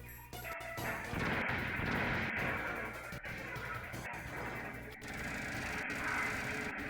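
Dense, loud bursts of gunfire in Metal Gear Solid on PS1, with sharp impacts repeating through a noisy, crashing battle mix, steady and close throughout.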